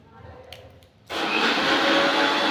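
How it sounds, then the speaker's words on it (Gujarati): An electric mixer blends a strawberry shake, starting abruptly after a short quiet stretch and then running as a loud, steady, close whirring roar until the end. "મિત્રો ઘણી વાર તમને મારો અવાજ નહીં આવે, આ મિક્સરનો અવાજ આવશે."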